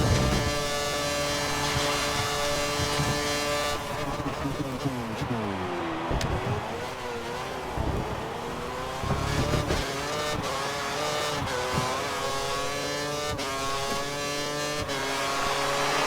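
Formula One race cars in the F1 2013 video game at the Japanese round, with the player driving a Sauber, scream continuously at high revs with rapid gear-shift dips and pitch sweeps, loud and steady throughout with no talking.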